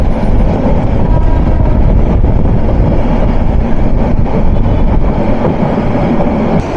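Turag commuter train travelling from Dhaka toward Joydevpur, Bangladesh, making a steady, loud rumble of wheels on rails with continuous low roar and faint rhythmic clatter throughout, no voices.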